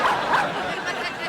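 A dog from a family sitcom barks twice in quick, sharp bursts near the start, fairly loud, then a busy background carries on.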